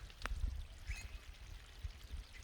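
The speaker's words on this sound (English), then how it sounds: "It's like water flowing down here. This entire wall." Water flows down a rock wall in Bolivia in a soft, steady trickle and patter, faint and close, with scattered louder drips and no talk.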